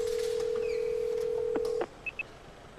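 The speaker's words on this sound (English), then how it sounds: "Without thinking, I pull out my phone and dial the first name that comes to mind." A steady single dial-type tone holds for nearly two seconds, then stops, followed by two short high beeps from a mobile phone, clear and close with no talking.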